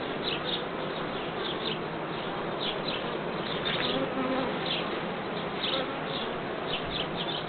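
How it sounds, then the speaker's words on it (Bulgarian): Many honeybees buzz at an open brood frame in an acacia-season hive, a dense, continuous close-up drone with individual bees flitting past, and no talking. "Много пчела."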